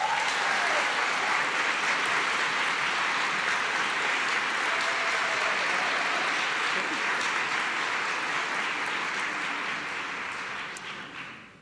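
A large audience at a reproductive rights roundtable applauds steadily to welcome actress Sophia Bush, with dense, even clapping that holds for about ten seconds before tapering off.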